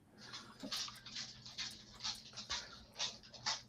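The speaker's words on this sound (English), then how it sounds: "Whose dog is that?" A dog whimpers in a series of short, high whines repeating roughly every half second over low background noise, fairly close and moderately loud, with no talking.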